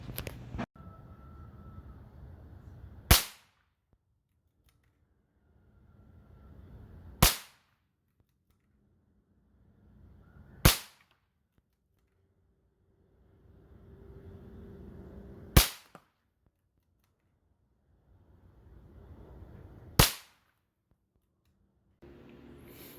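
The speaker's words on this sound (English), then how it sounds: "I was shooting all over the place apparently." .22 rifle shots fired into a deck of Yu-Gi-Oh cards outdoors, five sharp loud cracks spaced a few seconds apart with quiet gaps and low background rumble between them.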